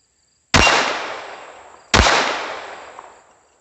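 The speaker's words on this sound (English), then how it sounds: "Shooting steel's just fun, ain't it?" Two sharp, loud shots from a Glock 44 .22 pistol strike steel targets about a second and a half apart, each crack followed by a long ringing metallic decay, with no talking.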